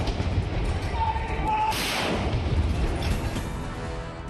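Indigenous 105 mm light field guns fire a 21-gun Independence Day salute at the Red Fort, heard as one deep, rumbling boom beneath steady talking.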